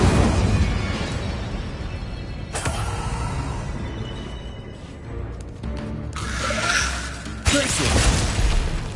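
Incendio fire spell cast repeatedly in Hogwarts Legacy: loud whooshing bursts of flame and crackling blasts, with sharp impacts around the middle and near the end, over continuous dense combat noise.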